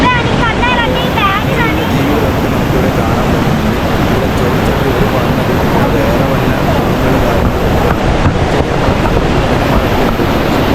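Strong rushing water at Ezharakkund waterfall in Kannur during rain, a loud, constant broadband roar that fills the whole stretch, with some wind buffeting on the microphone.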